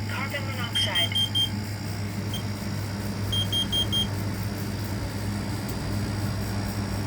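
Smoke and carbon monoxide alarm system beeping during a test, short high electronic beeps in a quick run near the start and another brief burst midway, over a steady low hum and background noise.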